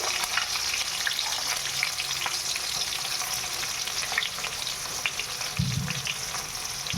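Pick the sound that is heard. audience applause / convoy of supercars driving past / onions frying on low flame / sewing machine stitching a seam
onions frying on low flame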